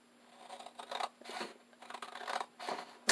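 Scissors snipping through junk journal cover material in a run of short, close cuts, each lasting a fraction of a second, with brief pauses between them and no talking.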